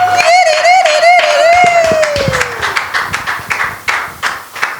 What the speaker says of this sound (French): Nous acclamons pour Jésus.